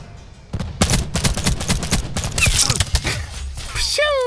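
Rapid bursts of gunfire in a first-person shooter game crackle loudly in close succession, followed at the end by a brief rising whistling effect.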